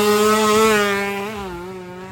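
A two-stroke drag-racing motorcycle makes a loud, close engine run, its high buzzing note holding steady, then dipping slightly near the end as the engine load changes, with no voices.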